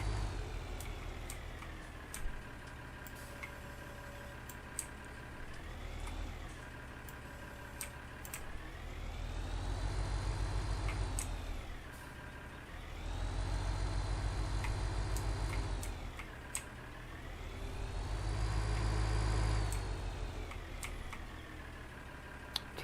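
A mid-size tractor engine runs in the Farming Simulator 19 video game, idling steadily and swelling three times into louder revving surges with a low rumble, no talk over it.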